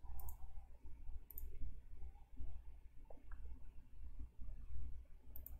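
Mouse clicks while navigating Dell EMC Unisphere management software for PowerMax storage: three short, sharp clicks spaced well apart over a low, rumbling background.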